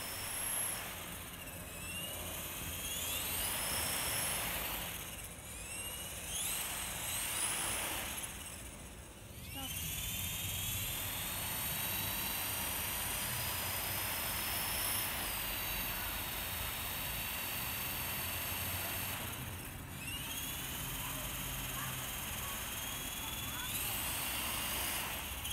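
A Robbe Blue Arrow XL RC helicopter makes a short liftoff, its rotor and motor giving a steady whirring drone with rising and falling whine, fairly close, amid outdoor background noise.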